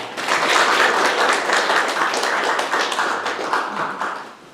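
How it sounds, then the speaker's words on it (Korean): Applause from an indoor town-hall audience at a civic dialogue session, a dense steady patter of many hands clapping continuously, loud and near, tapering off at the end. "김학선 위원님께 다시 한번 박수 부탁드립니다"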